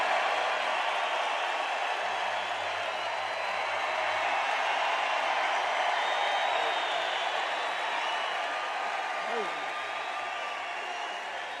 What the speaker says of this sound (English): that got applause like that